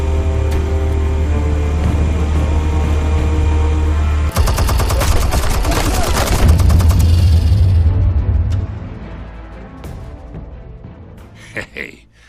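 Gunfire and explosive blasts in Batman: The Telltale Series, a steady low rumble broken by a sudden burst of rapid shots and booms that rolls on for several seconds, then fades to quiet with a few scattered sounds.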